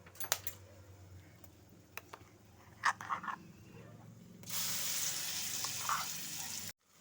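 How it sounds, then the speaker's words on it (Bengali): Ground cauliflower paste is dropped into hot spice tempering in a pan, following a few clinks and taps, then a sudden steady sizzle rises and holds before cutting off. "এখন আমি এর মধ্যে বাটা ফুলকপি বাটাটা দিয়ে দেব"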